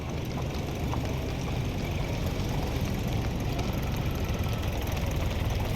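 Simulated engine and traffic sound laid over 1906 San Francisco street film, a dense, steady rumbling wash of motors at moderate level, continuous and without voices.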